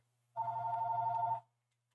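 A telephone rings once in a quiet room: a single steady electronic ring lasting about a second, moderately loud and close, with no voices.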